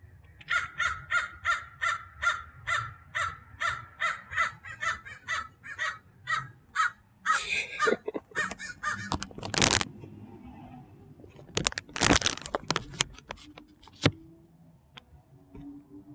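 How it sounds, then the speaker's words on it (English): A crow caws repeatedly in a steady series of loud, evenly spaced calls close by, followed by a few scattered thumps and rustles with the calls stopping. "There's one of the crows."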